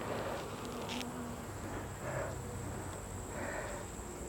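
Honey bees drone steadily inside a hive, a faint, dense, continuous buzz with occasional louder passes of individual bees near the listener.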